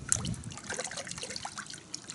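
Chemical Guys Glossworkz car soap being poured from a measuring shot glass into a bucket of warm water, a short close trickling and splashing dribble of liquid, fairly quiet, with no talking.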